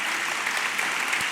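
Audience applause at a talks event, a dense, steady patter of many hands clapping close and fairly loud, with no voices over it.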